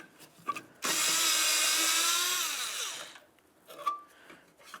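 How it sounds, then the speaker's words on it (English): A power tool spins a 10mm bolt out of the horn mount on a 2007-2012 Nissan Sentra, one loud continuous whir lasting about two seconds, close by, with quiet clicks before and after. "I'm just going to remove this one 10mm headed bolt to get it out of the way"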